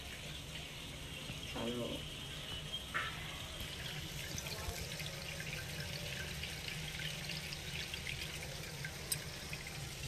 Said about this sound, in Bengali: আর এদিকে চালটাকে ধুয়ে নিচ্ছি এখন।